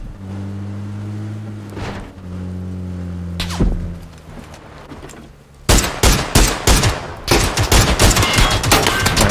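Gunfire in PUBG erupts in a fast burst of loud sharp shots midway through, following a steady low vehicle engine drone and a couple of single thumps.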